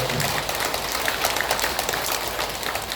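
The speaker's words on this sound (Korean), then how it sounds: "박수를 한번 여러분을 위해서" Listeners at a Buddhist temple New Year prayer service applaud, a soft, steady patter of many hands clapping at a modest distance, unbroken by talk.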